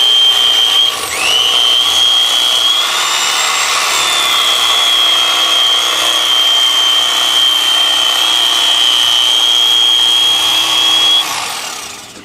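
Mr. Twister electric fillet knife cutting along a fish's spine and through the ribs: a loud, steady high motor whine that holds for about ten seconds and then winds down.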